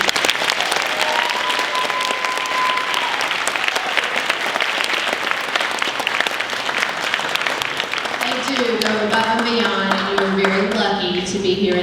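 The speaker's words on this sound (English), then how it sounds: "We just give a few minutes to say thank you and applause for our teachers." Sustained, dense applause fills a junior awards ceremony as the audience claps to thank the teachers; the clapping stays steady throughout, and tonal, music-like sounds rise over it in the last few seconds.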